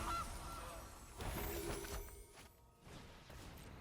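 Cartoonish goose honk effect from the MTG Arena digital card game, a few quiet nasal honks with whooshing swishes, heard alone.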